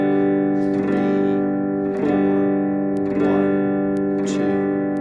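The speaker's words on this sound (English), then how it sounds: "we're going to strum for each beat in the measure." An electric guitar strummed in quarter notes, one strum per beat, each chord sustaining with effects and reverb in an even four-beat pulse, close and without talk.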